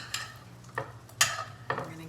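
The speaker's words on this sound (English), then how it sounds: "I'm just gonna mix this around with the butter" A spoon stirs a roast with melted butter in a crockpot, producing four distinct scraping clinks spaced about half a second apart over a faint low background, close and quiet.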